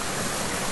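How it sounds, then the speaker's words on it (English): A small stream flows across a rocky beach with red stones, a steady close rush of water with no breaks and no voices. "Beautiful little stream."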